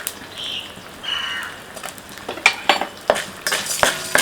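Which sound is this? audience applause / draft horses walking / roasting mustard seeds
roasting mustard seeds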